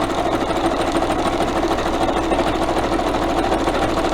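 A sewing machine stitching, its needle running in a fast continuous mechanical chatter, loud and close throughout without any talking.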